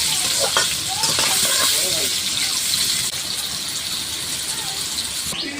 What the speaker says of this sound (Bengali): এটা ভাজতে ভাজতে একটু লাল লাল হবে।